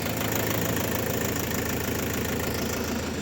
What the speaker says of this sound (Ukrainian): вже сюди в нас тракторець буксує